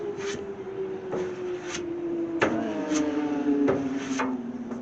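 Hand sanding of body filler on the rear deck lid of a 1968 AMX, a steady rasping scrub with a few sharper strokes and a faint whining tone underneath, close and moderately loud with no talking.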